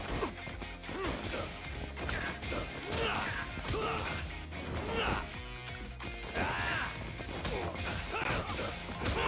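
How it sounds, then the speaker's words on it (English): Game controller buttons mashed rapidly during a fight in Judgment on Google Stadia, producing dense clacking and thumping under loud in-game combat crashes and hits, with a brief shout. "You can probably hear all of my button smashes."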